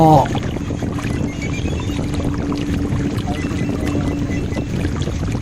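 A boat moves steadily along a river at night, a continuous low wash of water and hull noise with wind buffeting the microphone, no voices.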